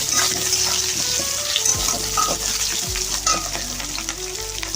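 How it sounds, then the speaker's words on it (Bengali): Potato pieces fry in hot oil in a pan, a dense, continuous sizzle and crackle up close with occasional stirring clatter, loud and unbroken throughout. "সেই আলুগুলোকে কিন্তু আমি এখন তেলের মধ্যে দিয়ে আলুটাকে একটু ভালো করে কিন্তু এখন ভাজা করে নেব"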